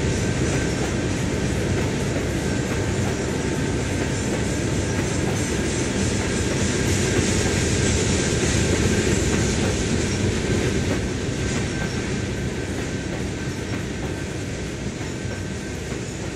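A BNSF freight train in the game Trainz 12 rolls steadily along the rails, with rhythmic wheel clatter and a constant rumbling hum throughout.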